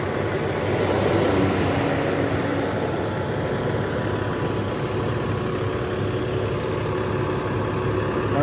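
A parked bus at a roadside restaurant at night idles with its engine cabin cover open, a steady, loud low rumble that holds unchanged throughout with no talking.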